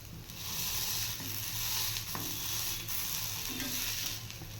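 Sandwich patties fry gently in a pan on low heat, giving a steady, soft sizzle that runs continuously throughout with a few faint scraping touches and no talking.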